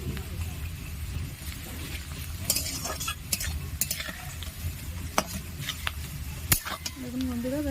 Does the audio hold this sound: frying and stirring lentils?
yes